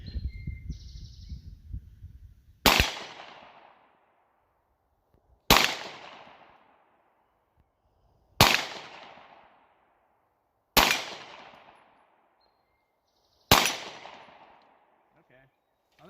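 Five sharp gunshots from a Canik TP9 DA/SA 9mm pistol, fired one at a time roughly every two to three seconds at targets outdoors. Each crack is loud and close, with a short decaying echo, and low murmuring comes just before the first shot.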